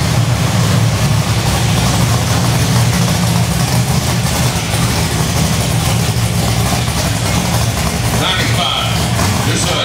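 A classic car engine idles at an auction with a steady low rumble, close and loud, while voices talk over it throughout.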